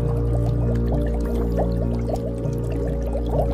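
Water sloshing and splashing as a body is thrown into a pond, used as a sound effect in an Odia moral story, heard as steady watery pouring and churning under a constant musical drone.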